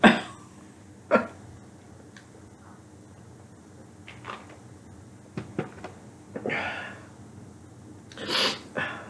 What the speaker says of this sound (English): Sorry, doing the sniffing thing again.